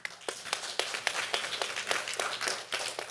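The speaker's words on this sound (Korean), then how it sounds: "박수로 환영해 주시기 바랍니다." Audience at a university English department centennial forum clapping to welcome a speaker, a brisk, fairly close run of individual hand claps that keeps an even pace and stays loud throughout.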